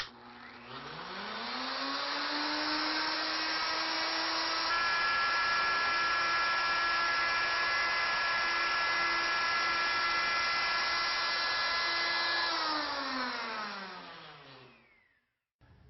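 Router on a wand-making jig cutting around the circumference of round wood stock: a high motor whine spins up, holds a steady loud cutting drone for about ten seconds, then winds down and stops.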